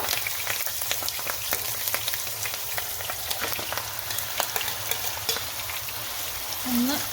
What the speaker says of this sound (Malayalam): നമ്മുടെ എണ്ണ ചൂടായിട്ടുണ്ട്. ഞാനിതിലേക്ക് ഇങ്ങനെ കറിവേപ്പില ഇട്ട് കൊടുക്കുകയാണ്.